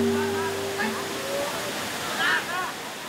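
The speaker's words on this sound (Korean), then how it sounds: "집에서 약 2시간을 달린 끝에 푸놈쿨렌 폭포에 도착했다." Phnom Kulen waterfall in Cambodia gives a steady, broad rushing roar throughout, with faint voices and brief tonal sounds over the constant water noise.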